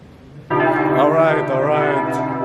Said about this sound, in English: These rings, these bells from the cathedral.